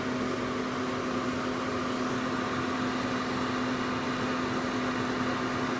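A ventilation fan runs over a gas stove in a tiny home kitchen, a loud, steady whooshing roar with a constant hum that continues unchanged throughout, with no talking.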